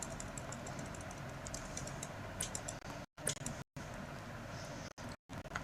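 Someone presses keys on a computer keyboard while entering data in Tally Prime accounting software, producing quiet, steady clicking with brief silent gaps.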